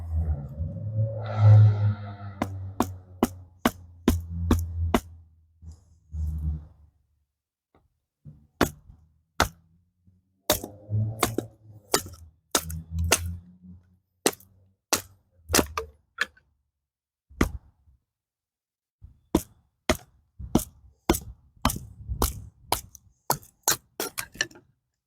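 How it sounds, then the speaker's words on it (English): SOG Fasthawk tomahawk splitting kindling: sharp, close wooden cracks and chops land one after another at an uneven pace, with rustling handling noise between strikes. "split some kindling"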